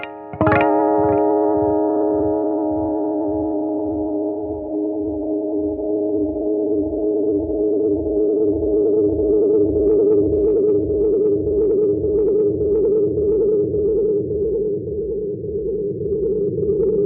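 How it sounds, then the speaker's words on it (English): An Echoplex tape echo with overdriven preamp and a damaged tape: one struck note followed by a long train of regularly repeating echoes that sustain and waver unevenly, loud and alone with no voices. "you're just hearing, all kinds of inconsistencies that would happen in a sort of a damaged tape."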